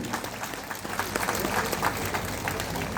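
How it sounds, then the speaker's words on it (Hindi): Audience applause at a public gathering, a steady wash of many hands clapping at moderate level for about three seconds with faint crowd murmur beneath. "तो आज क्योंकि उन्होंने हेल्प किया, तो आप थोड़ा उनके लिए भी ताली दे दीजिए"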